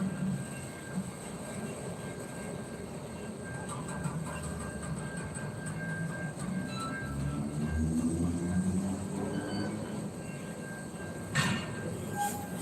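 A freight train rolls slowly to a halt, its low rumble and clanking cars joined by faint rising wheel squeal, heard from a moderate distance without talking.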